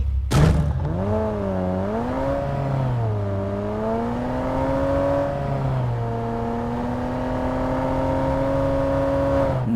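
A Bentley car skin in PUBG Mobile accelerating, its engine note climbing and wavering in pitch through the gear changes as it revs steadily and loudly for several seconds, with no talk over it.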